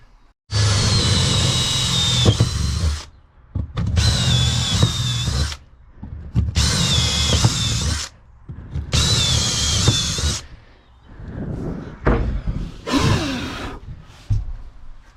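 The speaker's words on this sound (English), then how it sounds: "I'm going to drill through the floor right now" A power drill bores through a van's wooden floor for countersunk bolts, running in four loud sustained bursts separated by short pauses, followed by a few shorter, uneven runs close by.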